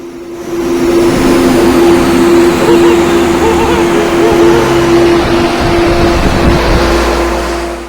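1998 Ford Mustang GT V8 held at high revs on a chassis dyno: a loud, sustained, steady engine roar with a droning exhaust tone that barely varies, filling the space before easing off at the end.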